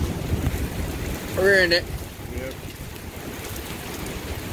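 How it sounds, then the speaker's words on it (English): Wind from a severe spring storm gusts steadily across the microphone, a continuous rushing roar under a brief spoken voice. "Here comes the wind."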